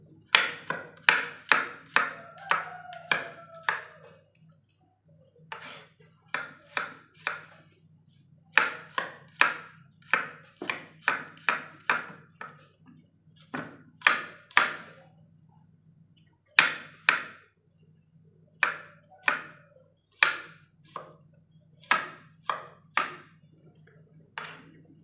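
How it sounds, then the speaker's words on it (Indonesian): Garlic is chopped with a knife on a cutting board: sharp, close, rapid knocks in quick runs of blows, separated by short pauses, continuing steadily throughout. "bawang putihnya juga kita cincang saja"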